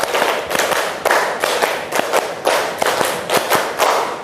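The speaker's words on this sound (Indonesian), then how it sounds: "Tepuk 1, tepuk 2, tepuk 3, tepuk 4, tepuk 5, tepuk 5 3 kali." Group of participants in a classroom ice-breaking game clap in rhythmic bursts, a series of sharp, fairly close hand claps in uneven patterns with brief pauses between clusters.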